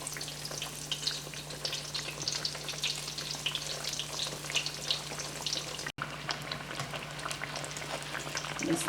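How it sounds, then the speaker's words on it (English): Eggplant slices fry in a pan until golden brown for an eggplant lasagna, giving a steady, close sizzle with bubbling crackle throughout and one brief dropout partway through. "Now you just fry your eggplants until they're golden brown."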